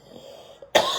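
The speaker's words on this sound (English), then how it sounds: "that was 2 coughs" A single sharp, loud cough bursts out near the end after a quiet stretch, close to the microphone in a podcast studio, with a softer throat sound just before it.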